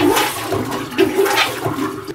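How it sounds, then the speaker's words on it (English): River water rushes and gurgles steadily through an inlet into a canal houseboat's water system, a loud close flow with uneven surges and no talk over it. "So it's just water coming in from the canal?"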